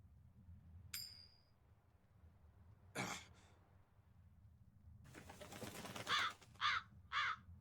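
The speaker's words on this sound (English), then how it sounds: "That crow just flew off with the coin" A crow in the video game Tales of Berseria gives a few short harsh caws, a faint chirp first, then a burst of flapping-like noise and three sharp calls, quiet and alone.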